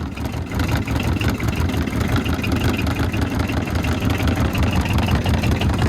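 Arctic Cat Diesel 700 engine idling just after starting cold, a loud, steady low chugging rumble that runs throughout at close range.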